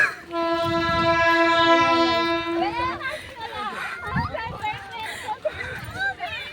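An Indian passenger train heading to Puri sounds a long, loud horn blast for about three seconds, then a crowded carriage fills with overlapping voices and clatter over steady rail rumble.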